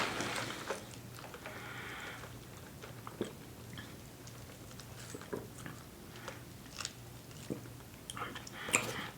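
Someone chews KFC fried chicken close to the ear, with wet chewing and occasional crisp bites and crunches scattered irregularly over a quiet background.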